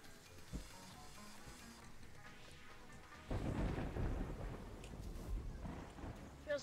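Thunder and rain in the video game Terraria: a steady patter of rainfall is joined midway by a deep, loud rumble of thunder that rolls on to the end.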